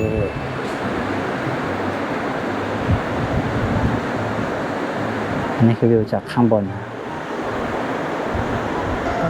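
Sea waves and wind roar steadily at a sand dune beach in Chumphon, with gusts buffeting the microphone; a person speaks briefly over the continuous broadband rush.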